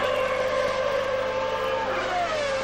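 Ayrton Senna's V12 Honda Formula 1 car runs flat out through the long Curva Grande at Monza during 1992 Italian Grand Prix practice, a loud, steady, high-revving engine howl that sags slightly in pitch near the end.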